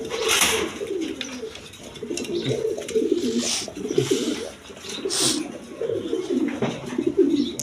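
Red Shikor pigeons coo continuously up close, overlapping low throaty phrases pulsing in a steady rhythm, with occasional brief rustles and bright noisy bursts.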